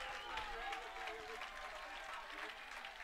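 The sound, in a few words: baseball crowd clapping and cheering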